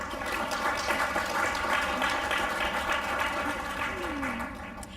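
An audience applauds panelists after a sustainability reporting discussion, a dense steady wash of clapping held at an even level from start to finish.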